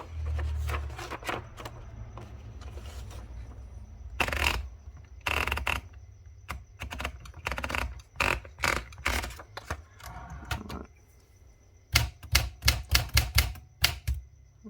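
Keys on a 1962 Olympia SF typewriter clack in scattered bursts, with sharp mechanical strikes, sometimes single and sometimes in quick runs, close and clear against a quiet background.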